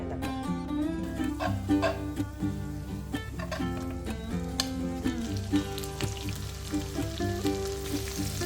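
Butter, salted or unsalted, sizzles in a frying pan on the stove, making a steady crackling hiss throughout, partly masked by background music.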